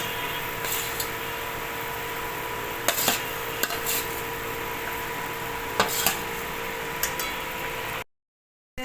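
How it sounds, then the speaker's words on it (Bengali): Tilapia pieces are added to boiling curry gravy in a pan, with a steady low simmering hiss broken by scattered sharp clinks of a utensil stirring against the pot. "গ্রেভি ফুটে গেছে, এবার মাছ দিয়ে দেবো।"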